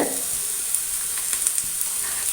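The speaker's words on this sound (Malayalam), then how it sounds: "അത് നല്ലോണം ഒന്ന് വഴറ്റിയെടുക്കാം ഇനി നമ്മൾ അതിലേക്ക് ഒരു ചെറിയൊരു കഷ്ണം ക്യാബേജ് ഇട്ട് കൊടുക്കുന്നുണ്ട്" Vegetables with a small piece of cabbage sautéing in a pan, giving a steady close sizzle with faint stirring scrapes throughout the brief moment.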